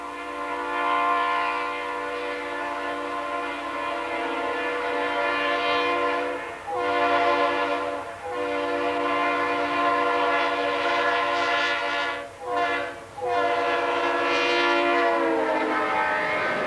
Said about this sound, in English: And another double-stacked train.